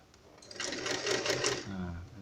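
A sewing machine stitching a small handmade fabric wallet, running in a steady, fast buzzing whir for about two seconds, close and fairly quiet.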